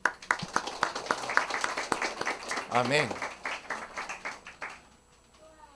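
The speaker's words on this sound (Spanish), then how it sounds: "Le damos toda la gloria al Señor, dando fuertes aplausos." Church congregation clapping during a Spanish-language service, a fairly steady patter of hands that keeps going under talk and singing voices before fading out near the end.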